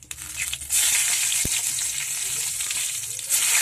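Two split green chillies drop into hot oil tempered with black cumin and burst into a close, loud sizzle that begins abruptly after a brief quiet start and hisses steadily to the end.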